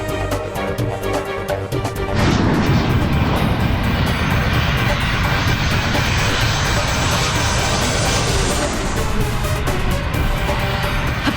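Fixed-wing airplane engine, running low on fuel, roars as the plane descends with its wheels not yet down. The sound swells into a loud, steady, continuous drone that fills the clip.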